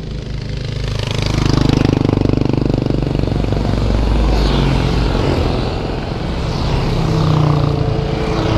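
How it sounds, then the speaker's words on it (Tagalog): A big bike motorcycle passes close by with a loud, continuous engine roar that swells and eases across several seconds, with no talking. "Ito, bumalik yung big bike."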